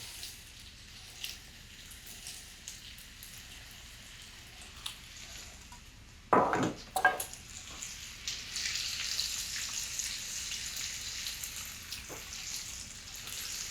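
Butter hitting a hot pan for mushroom risotto, a sudden burst of loud crackling sizzle that settles into a steady bubbling fry, near and alone.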